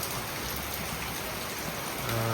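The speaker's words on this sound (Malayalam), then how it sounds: "ഭയങ്കര മഴ" Dense, steady roar of heavy rain pouring onto surfaces, loud and continuous throughout.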